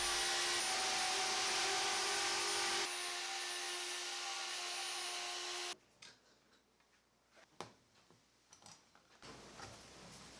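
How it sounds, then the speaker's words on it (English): A handheld router guided by a circle jig cuts a round subwoofer hole in a wood board, a loud steady whine for several seconds that drops in pitch, then cuts off into quieter knocks and handling clatter. "I made the cutout for the woofer using my router with its supplied circle guide"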